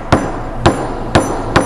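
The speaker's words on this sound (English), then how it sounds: "use the hard plastic tipped hammer to tap down" Four sharp, evenly spaced taps of a hard plastic-tipped hammer striking a roller's end cap, close and crisp against a quiet background.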